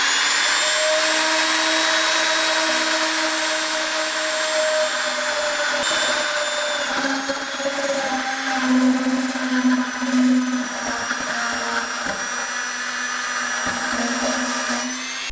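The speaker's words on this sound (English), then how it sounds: "So the first thing to do is wire brush around this area and see what we've got to work with." A wire brush, spun by a power tool, scrubs the metal around a pinhole in a BMW E30 petrol tank, giving a sustained high motor whine with a grinding rasp that shifts in pitch as pressure changes, close and alone.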